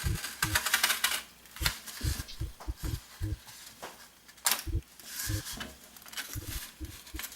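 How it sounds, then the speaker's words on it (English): A piece of styrofoam cut by hand for an air gun build, heard as close, irregular bursts of crisp scraping and squeaking strokes separated by short pauses. "now I'm just going to cut out a piece of styrofoam just to cover everything up with"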